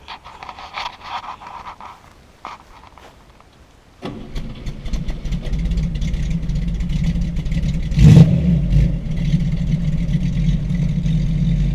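An unrestored 1963 Buick Wildcat with a 401 nailhead V8 and stock exhaust fires up after a quiet stretch, settling into a deep, loud idle before a sharp rev surges midway and eases back to a steady rumble.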